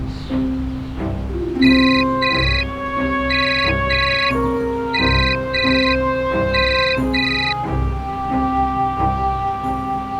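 An electronic phone ringtone plays a repeating melodic pattern of tones, ringing on and on for about ten seconds without anyone answering.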